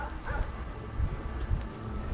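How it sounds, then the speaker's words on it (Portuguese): Dogs bark outside a house at night, several muffled barks and yips in an irregular rhythm, somewhat distant and moderately loud against a dull background rumble. "E os cachorros estão latindo"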